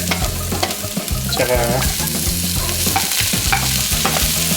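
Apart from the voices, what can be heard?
sautéing garlic, onion and tomato for beef caldereta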